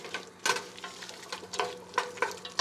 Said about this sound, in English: So we're going to saute that up.